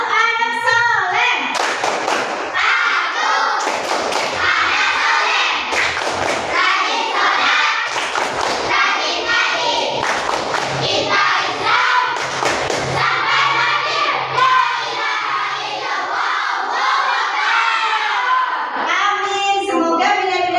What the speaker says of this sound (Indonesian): Tapi sebelum presentasi kita tepuk anak soleh dulu.